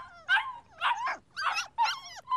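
Puppies whimper and yip in four quick bursts, high-pitched, close and fairly loud, with short pauses between them.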